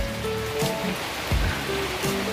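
Heavy rain falls outdoors, a steady dense hiss of drops on surfaces that fills the whole moment, with faint scattered tonal sounds mixed underneath.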